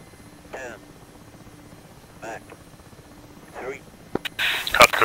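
A helicopter hovers during night sling load training, a low steady drone running throughout beneath short radio-style voice calls, ending in a louder burst of noise.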